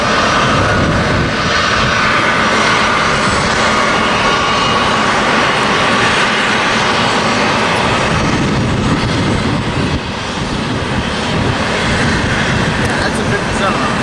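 A Delta Boeing 757 jet lands at San Diego, its engines a loud, steady roar that holds close and unbroken throughout.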